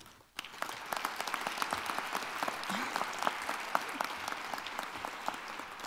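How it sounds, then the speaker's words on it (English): An arts awards ceremony audience bursts into sustained applause after a brief quiet start, many hands clapping densely and steadily throughout. "all of you deserve a round of applause"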